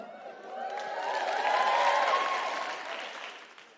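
Live audience applause at a comedy podcast recording in Cardiff, a moderate wash of clapping that swells to a peak midway and then tapers off, with crowd murmur mixed in.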